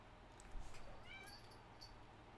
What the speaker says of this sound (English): Oh, my cat's really being a pain.